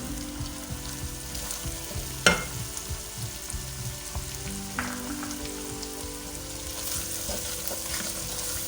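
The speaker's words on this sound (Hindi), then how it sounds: "इसको थोड़ा फ्राई कर ले मसालों को" Close, steady sizzling of spices frying in a hot pan with garlic and ginger, with occasional soft stirring scrapes and pops throughout.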